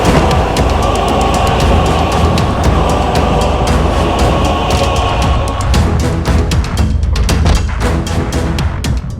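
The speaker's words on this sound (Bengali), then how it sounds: "আপনার ডান দিকে চলা ট্রেনটিতে উঠে পড়ুন" A moving train running close by in a film scene, with a loud continuous rumble and a steady rapid clatter of wheels over rail joints throughout.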